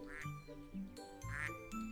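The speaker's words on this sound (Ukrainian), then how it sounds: "Так, качку треба, давай качку нагодуємо зараз." A duck quacks twice in a farming and supermarket video game, loud and nasal against light game music and jingles.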